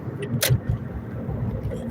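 Steady car engine and road rumble from inside a vehicle merging onto a parkway on a day before a snowstorm, continuous and close, with a brief sharp transient partway through and occasional voice in the background.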